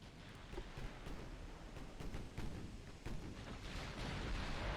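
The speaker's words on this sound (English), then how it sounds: "There's quite a bit of shell fire coming in." Incoming naval shell fire rumbles through a battle in Ultimate Admiral Dreadnoughts, a 1940 German fleet outnumbered, with deep continuous booming and several sharper distant blasts over a heavy low roar.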